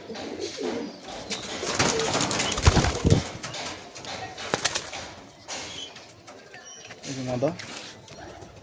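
Closed-tail high-flying pigeons at a loft, with soft cooing and brief wing flaps in the background, mixed with outdoor noise while someone talks nearby.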